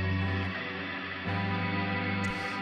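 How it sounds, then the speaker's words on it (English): Ambient synth noises in Ableton drenched in a big reverb, a dense sustained wash of layered tones that shifts in pitch and timbre partway through, loud and continuous with no voices. "I can put on that big reverb and get"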